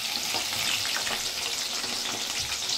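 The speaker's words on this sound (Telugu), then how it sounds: "ఆనియన్ కూడా దోరగా ఫ్రై చేసుకున్నాం." Onions sizzling in hot oil until golden for a haleem garnish, a steady bright crackling fry throughout, close and unbroken with no talk.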